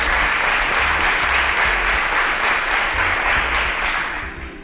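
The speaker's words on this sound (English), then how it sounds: "A round of applause for our panelists." A studio audience applauds panelists on a pitch show, with thick, continuous clapping that stays loud for several seconds before easing off at the end.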